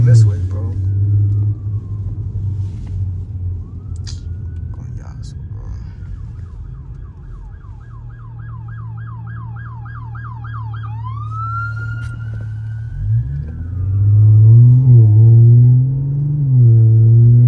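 Police car sirens wail and yelp as more cops approach on the road, loud and close, sweeping through rising and falling tones with rapid yelp cycles mid-way, over car engine rumble.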